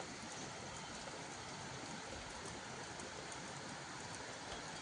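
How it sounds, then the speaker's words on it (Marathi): A hillside waterfall swollen by days of monsoon rain at Tiware Gangechiwadi rushes in a steady, even roar, heard faintly from a distance with no other sounds standing out. "हा बघा धबधबा"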